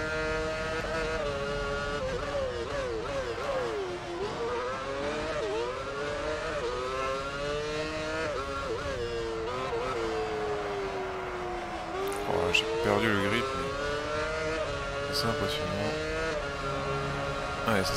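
Formula 1 race car engines in the video game F1 Championship Edition at the Spanish round, with a Ferrari closing in. The engines hold a steady, high, droning whine with rising and falling pitch as the cars rev and shift gears.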